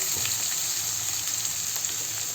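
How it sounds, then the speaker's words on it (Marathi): Finely chopped onion fries in oil with cumin seeds and curry leaves for quick fried rice. The sizzle is close and steady, with light crackles and faint stirring throughout. "आणि आता घालतोय बारीक चिरलेला कांदा."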